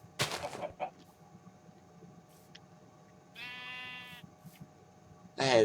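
A blocky video-game sheep on a Minecraft-style farm map bleats in short wavering calls, one near the start and a longer buzzy one midway, with a chicken and soft game ambience around it and no talk.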